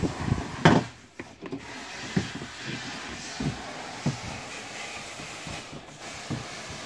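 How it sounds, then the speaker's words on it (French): Scraping and scrubbing inside a clean-water tank: uneven rubbing and grating strokes with occasional sharper knocks, close up, with no one speaking. "Donc on va bien le gratter, bien le nettoyer."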